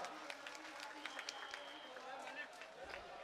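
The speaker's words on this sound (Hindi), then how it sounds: "आप तालियां बजाकर मुझे बतलाएं कि आप मोबिन राही से कितनी मोहब्बत करते हैं। एक मरतबा भरपूर ताली।" Audience clapping at an all-India mushaira poetry gathering in Malegaon, a steady patter of many hands mixed with crowd noise, moderately distant and continuous throughout.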